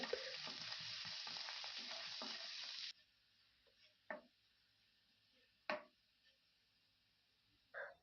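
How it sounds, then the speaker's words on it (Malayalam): Chopped ginger and garlic fry in coconut oil in a pan with a loud, dense sizzle that stops abruptly after about three seconds. A few sharp utensil taps follow against quiet. "ഇഞ്ചി ചെറുതായിട്ട് അരിഞ്ഞത് ഒരു ടീസ്പൂൺ വെളുത്തുള്ളി ചെറുതായിട്ട് അരിഞ്ഞത് ഒരു ടീസ്പൂൺ എന്നിവയിട്ട് മൂപ്പിക്കാം"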